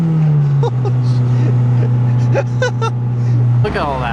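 A built, boosted Mazdaspeed3 engine holds full throttle on a dyno with a loud, steady droning roar. The pitch dips early and shifts near the end, while excited shouts break in over it.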